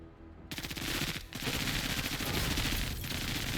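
Rapid automatic gunfire in the war game MENACE, a dense sustained burst of loud overlapping shots that starts abruptly after a quiet half second, with a brief dip before the firing resumes.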